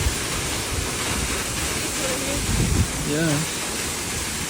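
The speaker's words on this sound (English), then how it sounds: "So this is what it looks like when you walk through the Monkey King Cave waterfall." Roaring, steady rush of the Monkey King Cave waterfall at Huangguoshu, Guizhou, heard from inside the cave walkway, a dense broadband wash filling the whole clip while a voice speaks briefly over it.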